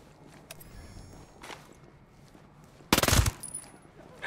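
A short burst of rapid gunfire from a Vector Shorty submachine gun in the shooter game Ghost Recon Breakpoint, loud and close, following a few fainter thuds and steps.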